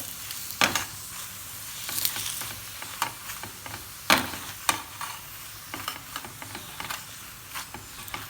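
A multigrain paratha fries in a little oil on a hot pan, giving a steady soft sizzle broken by sharp crackling bursts and occasional scraping as it is turned, close and moderately loud.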